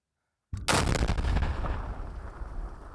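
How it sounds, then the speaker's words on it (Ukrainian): A sudden loud explosion set off by sappers bursts out after half a second of silence, its heavy rumble and debris noise rolling on and slowly fading. "Після другого, не менш потужного вибуху, бійці завершують свою роботу."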